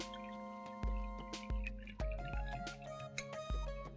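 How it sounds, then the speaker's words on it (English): Rinse water being drained off washed dal in a kitchen, giving soft dripping and trickling with a few sharp knocks of the pot, close and quiet with no talking. "Drain off the water or the liquid."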